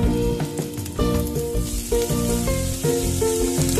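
Broccoli dropped into a pan of sizzling butter and translucent onions: loud, close frying hiss with clattering bursts as it lands and is stirred, no talking.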